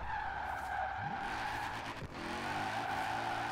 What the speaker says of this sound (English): This thing already rips, just shredding tires.